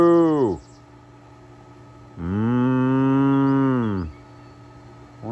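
Cattle on a farm pasture, including a young heifer, lowing in two long loud moos, one cut short at the start and a fuller one in the middle, close and clear with quiet gaps between.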